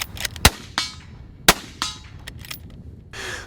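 A Merkel Helix rifle fires in a quick series of shots: two sharp, loud cracks stand out among several fainter reports, followed by a brief rushing tail at the end.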